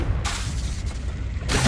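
A Confringo fire spell bursts in Hogwarts Legacy, a loud close blast with a sustained rumbling, crackling body that flares again at the end.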